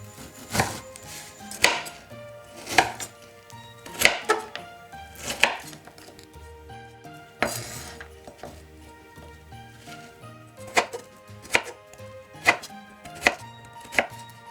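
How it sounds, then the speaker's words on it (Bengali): Knife chopping candied fruit (morabba) into small pieces for a Christmas fruit cake, sharp close taps on a board in uneven bursts with short pauses, over faint background music. "এটাকেও ছোট ছোট টুকরো করে কেটে নেব।"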